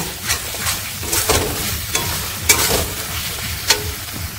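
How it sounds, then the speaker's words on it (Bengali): Spices and meat masala fry in hot oil in a pan for a mutton curry, with loud sizzling and repeated scraping stirs of a spatula across the pan, close and without talk. "মিট মশলাটা দিয়ে আরো 2 মিনিট কষিয়ে নেব।"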